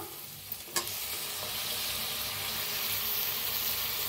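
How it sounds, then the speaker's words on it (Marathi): Onion-tomato masala fries steadily in hot oil, a dense, continuous close-up sizzle with a brief clatter of stirring near the start. "मस्त असा मसाला भाजायला लागलाय आपला"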